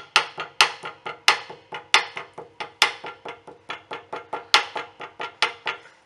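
A hammer strikes repeatedly along the spine of sewn book signatures during backing in bookbinding, a close, steady series of sharp knocks, roughly three or four per second, each with a short ringing decay.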